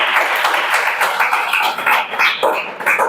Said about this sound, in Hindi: चलो ताली बजाओ कर लिए।